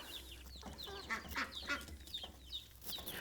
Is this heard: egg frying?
no